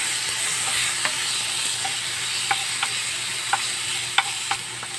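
Tomatoes sauté with onion and ginger in a pan, a steady hiss of frying broken by sharp clicks of a utensil scraping and stirring against the pan.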